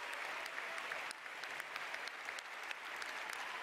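Graduation audience applause for performers, dense and continuous clapping heard from a distance at a fairly soft level, with a faint crowd murmur underneath.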